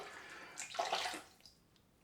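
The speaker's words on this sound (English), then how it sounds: "You just put them straight in the hot water and you're ready to go." A synthetic shaving brush dipped into hot water makes a soft, brief swish and slosh near the middle, faint and close with a quiet room around it.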